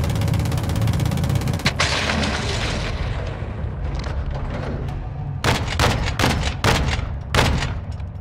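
Incoming mortar and gunfire in the Modern Warfare II video game campaign: a dense roar of battle noise, then sharp, loud blasts and bursts of shots in quick succession.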